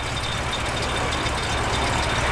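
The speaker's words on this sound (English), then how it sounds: "Just runs and drives as sweet as can be. '62 Impala Super Sport" A 1962 Chevrolet Impala SS with a mild, non-big-cam engine cruising on the road, giving a steady, continuous engine and road drone with broadband wind noise throughout.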